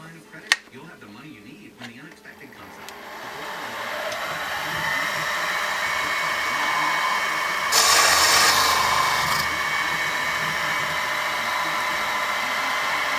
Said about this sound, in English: So now we remove the gauge pin and we ream our counterbore.